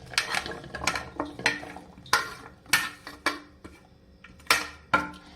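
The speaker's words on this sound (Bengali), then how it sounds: "এবার আমি একটা বাটি নিচ্ছি, তার মধ্যে সব উপকরণ একবারে ঢেলে দিচ্ছি।" Utensils clink and clatter against a bowl as mustard oil, kasundi, salt, black salt and chaat masala go in for a mixed pickle. About a dozen sharp metallic taps come at irregular intervals, close and clear, with quiet gaps between.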